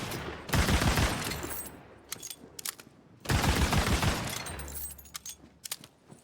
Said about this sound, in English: It looks like it's a shotgun revolver. Each one is shooting like 5 bullets.